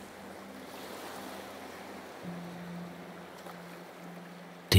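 Soft, steady ocean surf rolls on in a quiet wash with a low continuous hum beneath, no voices, and a brief louder burst right at the end.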